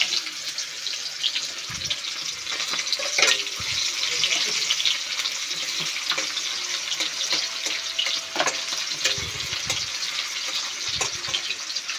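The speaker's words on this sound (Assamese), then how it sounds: "এতিয়া পিঁয়াজটো লাল কৰি ভাজি লোৱা হ'ল।" Chopped onions fry in a pan with bay leaves for a meat curry, giving a steady, close sizzle with occasional stirring scrapes throughout.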